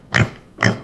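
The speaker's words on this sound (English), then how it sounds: "I see piglets saying oink oink." Two short, close grunting oinks from piglets, evenly spaced about half a second apart, loud and alone.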